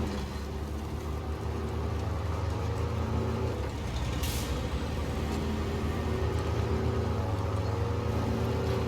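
A timber truck's engine idles and runs in the Scandinavia map of Snowrunner, a steady low droning rumble with a constant hum throughout and a brief bright burst midway.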